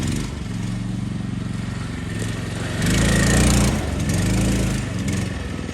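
A Harbor Freight 459cc Max Performance engine swapped into an American Landmaster trail wagon runs steadily at close range, a loud continuous engine drone that swells briefly as it revs harder before settling back to idle.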